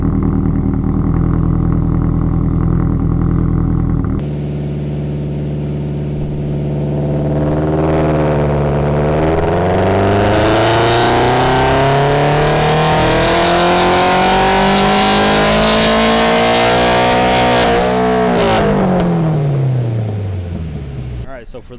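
A turbocharged Toyota GR86 idles loudly on a dyno, then its engine climbs in a long, sustained rising roar to high revs before cutting off abruptly near the end.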